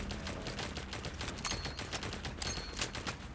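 Rapid rifle gunfire from the video game Cyber Hunter, dense bursts of sharp cracks firing in quick succession throughout, loud and continuous with no pauses.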